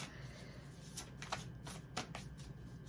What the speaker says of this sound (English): So let me shuffle these cards.